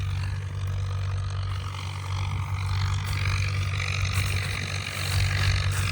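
An HMT 5022 tractor engine labours steadily as it pulls a harrow through wet, sticky mud, a loud close low drone with a throbbing idle-like rumble and slight variations in pitch throughout.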